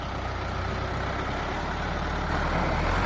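A Euro 55-horsepower farm tractor's engine runs steadily with a loud, constant low rumble and no break, close to the listener.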